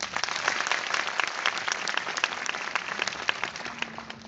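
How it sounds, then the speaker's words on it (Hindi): Audience applause for teachers at a school gathering, a dense, steady round of clapping from a large crowd lasting throughout, with a faint tone entering near the end. "huge round of applause"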